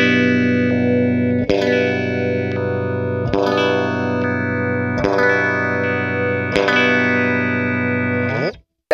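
A 1985 BC Rich Bich USA electric guitar with its out-of-phase switch and baritone setting engaged, heavy sustained chords struck about every two seconds, ringing loud and close before cutting off abruptly.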